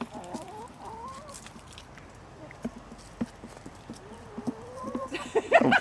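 Chickens cluck and call softly from nearby in an outdoor farmyard, their rising calls mixed with scattered knocks and rustling, and a louder burst of sound at the end.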